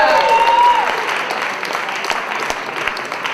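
An audience at a slam poetry competition applauds a poet after her scores are read, the clapping loud at first and gradually thinning out over a few seconds.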